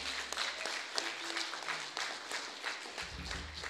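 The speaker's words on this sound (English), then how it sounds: "Let's give them a final applause." Audience clapping at a secondary school end-of-year presentation, moderate and steady for several seconds, with a low rumble and slight stir near the end.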